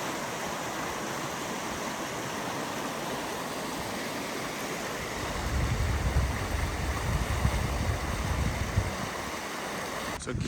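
Panther Creek rushes below a campground viewpoint with a steady broadband roar of flowing water that swells louder partway through, as if drawing nearer the stream.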